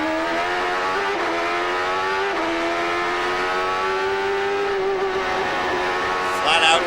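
A 2003 Champ Car on a flat-out qualifying lap at the St Petersburg street circuit screams at high revs, pitch climbing through the gears with brief dips at upshifts, loud and continuous.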